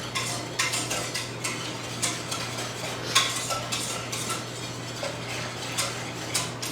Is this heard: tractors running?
no